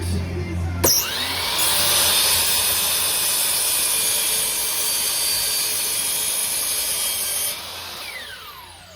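A power saw spins up and cuts through a Hardie fiber cement ceiling panel at close range, a loud sustained high whining grind lasting several seconds before the blade winds down.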